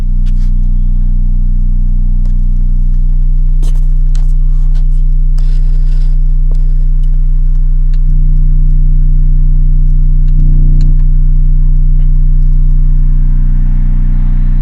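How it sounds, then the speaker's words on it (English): A loud, steady deep 30 hertz bass test tone from a tiny 4-inch subwoofer in a large box hums continuously, with a few faint clicks and brief bumps of noise over it. "I can hear a 30 hertz tone"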